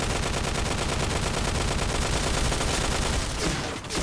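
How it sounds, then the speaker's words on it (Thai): XM7 rifle gunfire in a first-person shooter game comes as loud, rapid automatic bursts, densely repeated shots that hold for several seconds before a brief tail-off. "นี่คือหน้าตาของปืน XM7 นะครับจะจะประมาณนี้แหละยิงก็จะประมาณนี้"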